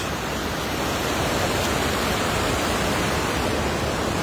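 Hunter Creek flows steadily and loudly in an unbroken rush of water, with a broad hiss that stays even and close from start to finish and no voices over it.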